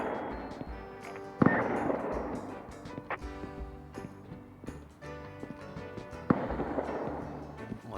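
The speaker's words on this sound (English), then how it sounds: "I think that's my shotgun trap." In the survival game Rust, a shotgun trap fires with sharp, loud blasts, two standing out above a busy, clattering game soundscape with hoof-like knocking and scattered cracks.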